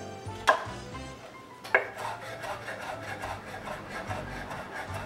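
Fresh sage being chopped with a knife on a board: two sharp, distinct knocks followed by a run of quick, lighter rhythmic cuts, close up and with no talk.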